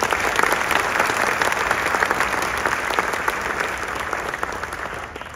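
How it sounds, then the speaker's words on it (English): A large audience at a celebration of life ceremony for poker player Doyle Brunson applauds in a dense, sustained wash of clapping that fades slightly toward the end. "Give them a round of applause,"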